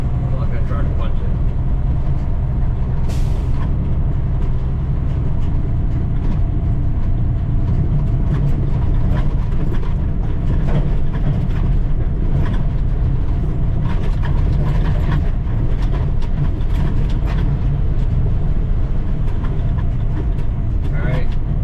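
Sterling log truck fitted with tire chains climbs a snowy uphill grade at steady throttle, its low diesel rumble continuous and loud throughout, with faint clinking and road noise layered above.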